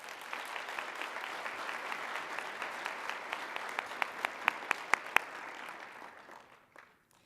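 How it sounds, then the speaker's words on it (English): Sustained applause from a sizable audience at an awards ceremony, steady clapping that swells with a few sharp close claps before fading out near the end. "let's all give everyone a big round of applause"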